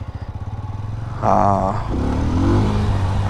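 A 125cc sports motorcycle being ridden gives a close, pulsing engine note that climbs into a louder, revving drone partway through.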